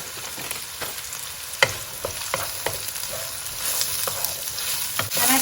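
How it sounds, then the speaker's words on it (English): Chopped onion frying in sunflower oil in a hot pan makes a continuous close sizzle, with occasional sharp crackles and stirring clicks and no talk. "Nice hot pan, 2 to 3 tablespoons of oil. I'm using sunflower oil. In goes the onion."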